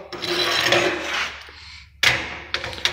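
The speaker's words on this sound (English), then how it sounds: "Set it in place, pull this handle, and that way you tighten them up." A speedy-handle clamp on a heavy steel welding table is set in place and tightened, giving a close scraping, rasping rub followed by a sharp metallic clack and more brief scraping.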